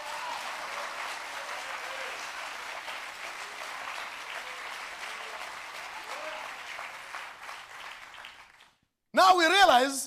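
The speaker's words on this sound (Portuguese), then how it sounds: "Can we just give him a hand clap?" A church congregation applauds in a steady wash of many hands clapping that holds for about eight seconds and then fades out. A voice speaks loudly right after the clapping stops.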